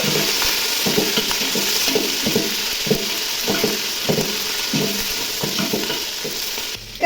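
Onions, green chili slices and tomato pieces are stirred in a sizzling pan, with a steady rhythm of scraping strokes over continuous frying hiss, close and fairly loud.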